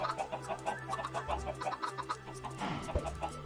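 Chickens cluck steadily in a Minecraft-style survival game, Project Nope Zone, the rhythmic clucks layered over a constant low game hum.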